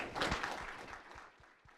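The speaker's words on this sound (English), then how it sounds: "please join me in giving them a round of applause" Audience applause for panelists at a race and ethnicity conference, a quiet room-filling patter of clapping that fades away over the second half.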